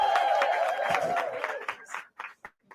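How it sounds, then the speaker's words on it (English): A workshop audience claps together, a dense burst of applause that thins out into a few scattered last claps and fades to quiet within a couple of seconds. "Give Hetty another round of applause."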